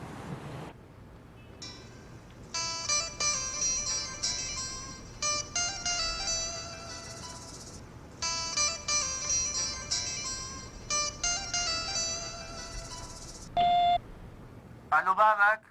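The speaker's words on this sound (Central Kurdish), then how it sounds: "خەریکە دیسان تەلەفۆنێک دەکات" A telephone call is placed: tones of the number being dialed, then a repeated electronic ringing that comes in long bursts with gaps. It stands out clearly over faint background noise, with voices talking at times.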